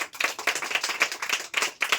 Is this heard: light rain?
no